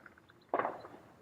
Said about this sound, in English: I think those are fireworks.